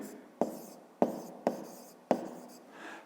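Handwriting for a fifth-grade maths exercise: four sharp pen taps at the paper, each followed by a short scratching stroke, quiet and close with no voice.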